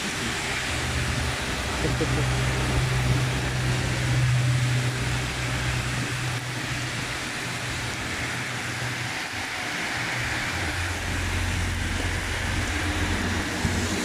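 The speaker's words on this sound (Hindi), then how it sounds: "देखिए अचानक से बारिश शुरू हुई है और देखिए कितना तेज बारिश हो रही है" A sudden heavy downpour at the Haram in Mecca makes a steady, loud broadband hiss throughout, with a low rumbling drone underneath and voices talking in the mix.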